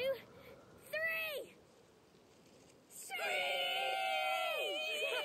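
Human voices imitate bird-of-prey screeches in the video game A Plague Tale: Requiem: one short shrill cry, then a longer, louder screech from several voices together.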